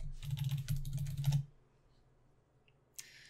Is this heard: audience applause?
no